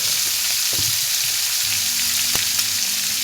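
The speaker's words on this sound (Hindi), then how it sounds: "सारी चीज़ों को हम फ्राई कर लेंगे। इसके साथ हम नमक भी ऐड कर देंगे ताकि ये हमारी जो प्याज है वो गल जाए।" Onions frying with salt for butter chicken give a dense, even sizzling hiss, close and steady, with a few low knocks and a brief clatter partway through.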